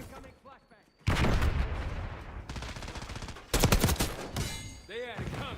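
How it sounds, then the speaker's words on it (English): A flashbang grenade goes off in Call of Duty: Black Ops 6, a sudden loud blast with a sustained roar and a second burst soon after, while a voice is heard before and after. "Incoming flashbang."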